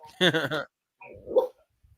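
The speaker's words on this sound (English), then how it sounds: "that's the other dog being jealous that this is happening" Dog barking and whimpering close by indoors, a short burst of barks followed by a softer whine, with a person's voice nearby.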